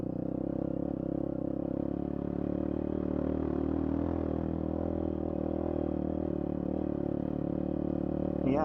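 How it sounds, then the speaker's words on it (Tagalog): A medium-engine motorcycle, a ZMAX, idles and putters slowly over rough ground, its steady low drone lightly clattering throughout with a brief rev at the end. "Dahan-dahanin natin kasi hindi man atin tong motor na to."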